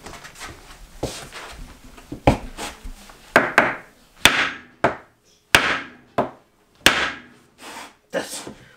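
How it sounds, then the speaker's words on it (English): Sharp hammer blows strike a wooden floor in a mobile home about once a second, some harder than others, ringing out against a quiet room. "can't you just hammer it in?"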